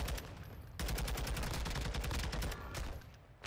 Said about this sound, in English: who is shooting at me now?